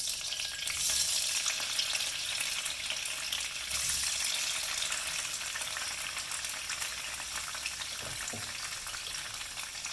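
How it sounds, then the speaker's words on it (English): Hard tofu frying in oil, a steady bright sizzle and crackle that stays fairly quiet and even throughout, with a few soft clinks, no one speaking. "Next we want to fry the hard tofu."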